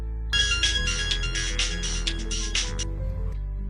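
A phone ringtone announces an incoming call in a French-dubbed drama, a bright melodic tune ringing for about two and a half seconds over a steady low background score.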